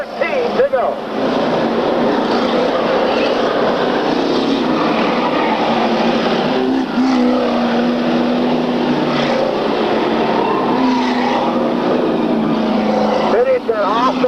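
Race cars run at a 1995 road-racing event, a steady loud engine drone with a rising and falling pitch as cars pass, under continuous commentary.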